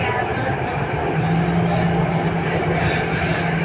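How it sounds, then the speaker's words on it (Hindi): Inside an RRTS rapid-rail train cruising at around 130 km/h: a steady, dense rumble and rush of wheels and air with a faint sustained whine, continuous throughout. "ट्रेन हमारी 132 की स्पीड जो है वो रीच कर गई है 134 तक"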